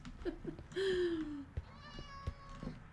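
A cat meows in the Minecraft video game, two or three clear, close mews with a drawn-out cry in the middle, alone over a soft background.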